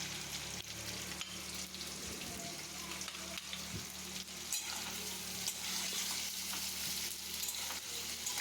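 Potatoes and chopped tomato fry in a pan with a steady, close sizzle, broken by the soft scrape of occasional stirring.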